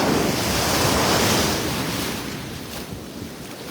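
Steady ocean surf washes on a North Carolina beach in October, a broad continuous roar mixed with wind buffeting the microphone, easing slightly toward the end, with no voices.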